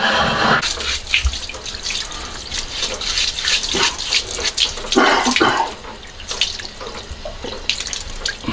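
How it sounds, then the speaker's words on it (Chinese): Tap water running into a sink while pork belly and abalone are rinsed, splashing and gurgling close by with uneven bursts as hands move the food under the stream; no speech. "咱们去把肉啊还有鲍鱼一块清洗一下。"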